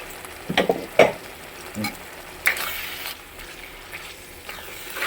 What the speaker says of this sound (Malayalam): നന്നായിട്ട് ഇളക്കുക. എല്ലായിടത്തും കാശ്മീരി മുളക് പൊടി പിടിക്കട്ടെ.